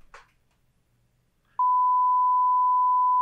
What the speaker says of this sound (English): That was an advanced beep